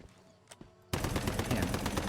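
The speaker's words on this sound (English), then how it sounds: "Something shot at me." Gunfire in the video game Once Human: a sudden loud burst of rapid shots erupts after a quiet moment and keeps going to the end.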